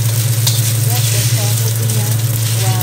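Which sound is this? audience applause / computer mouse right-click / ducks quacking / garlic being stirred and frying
garlic being stirred and frying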